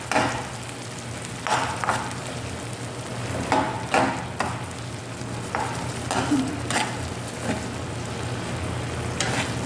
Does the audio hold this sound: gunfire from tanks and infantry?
no